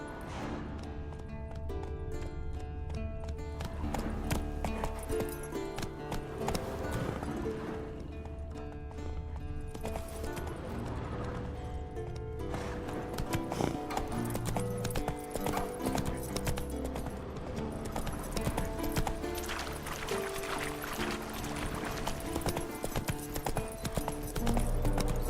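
Roach, the horse in Witcher 3: Wild Hunt, gallops with steady clip-clopping hooves under a continuous musical score, with occasional whinnies.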